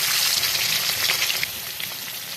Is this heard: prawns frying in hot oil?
yes